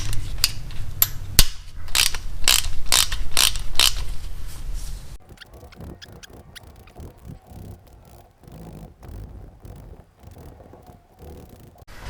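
A tool works the bolts loose from the cam tensioner cover on a 2006 Harley-Davidson Ultra Classic, with a run of sharp, rhythmic clicks that fall to quieter, scattered metallic ticks and handling sounds.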